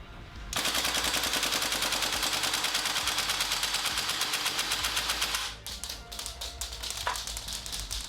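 A GHK AKM gas blowback airsoft rifle running on propane fires a magazine in one loud, rapid, sustained burst of about five seconds, then falls quiet apart from a few light handling clicks.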